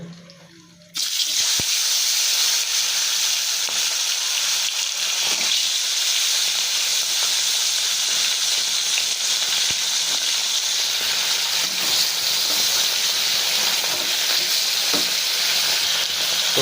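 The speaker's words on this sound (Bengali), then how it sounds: "তেলটা গরম হোক তা মাছগুলো একটা একটা করে ছেড়ে ভেজে নেবো" Whole fish (rohu-type catla) frying in hot oil, a loud continuous sizzle and crackle that starts abruptly and holds steady throughout.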